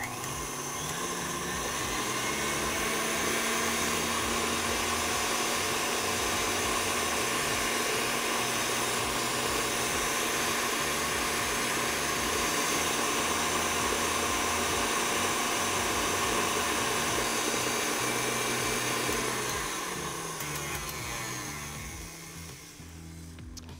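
An electric mixer creaming room-temperature butter for pumpkin spice latte cupcakes gives off a loud, steady whirring drone that runs without a break, with a slightly churning texture, then winds down toward the end.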